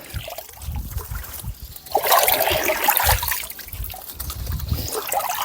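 Water trickles and gurgles along a traditional village irrigation channel, a steady broadband flow that swells louder midway and carries on without pause.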